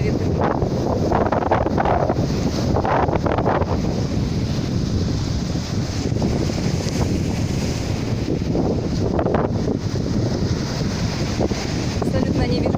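Strong wind on a beach at Lazurnoye buffets a handheld phone microphone, a loud, continuous rumbling roar with gusty swells that never lets up across the whole stretch.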